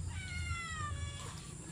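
A soft cat meow drawn out over a couple of seconds, faint and somewhat distant, against a low background hum.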